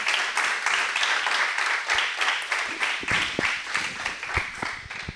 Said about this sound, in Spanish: Démosle un fuerte aplauso a Alejo y a Toya.